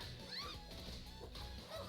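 A summoned dog in the fighting game Them's Fightin' Herds gives short yips and barks amid dense game effects and music, loud and busy throughout.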